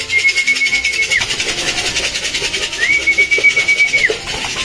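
Pet birds in a home aviary, including an African lovebird, call with sustained high whistling tones in two long phrases over a close, steady background hum.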